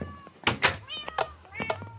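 Cats in the Minecraft video game meow several times in quick succession, loud and close, with a few soft thuds between the calls.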